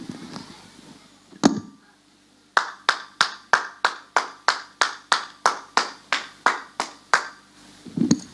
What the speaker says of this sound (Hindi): उठ, सबसे तेज ताली बजा।